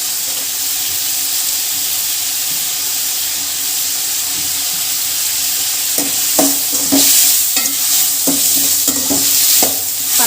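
Tomatoes and garlic sauté in a pan for tomato thokku, a steady close sizzle with scraping stirs and clinks of the spoon growing busier in the second half.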